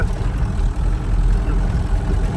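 A tractor engine idles with a low, steady rumble continuously nearby, deep and unbroken, with no voices over it.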